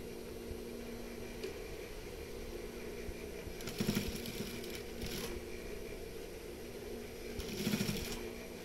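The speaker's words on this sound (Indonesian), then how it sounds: "Kita setik saja di bagian tutup sakunya" A sewing machine stitches a pocket flap in two short, faint bursts of whirring, separated by quiet pauses over a low background hiss.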